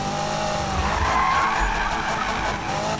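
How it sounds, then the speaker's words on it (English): A car skidding and drifting in the Need for Speed video game, a sustained tire squeal over a steady engine roar lasting about three seconds, loud and close, with no talk. "Now drifting in this game"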